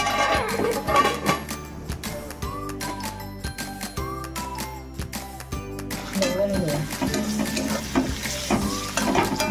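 Tomatoes going into a pan of onions frying, a busy sizzle with stirring scrapes and light metallic clinks, while a person talks over it for much of the time.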